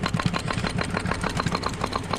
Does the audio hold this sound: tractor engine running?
yes